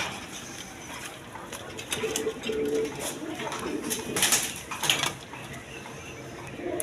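Domestic pigeons, fancy colour breeds kept for sale, cooing at moderate distance amid a busy pen with scattered calls, soft rustles and clatter; the low, rounded notes come and go rather than in a steady rhythm.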